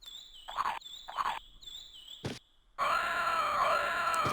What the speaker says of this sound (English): And he screams in our face to let us know that he is full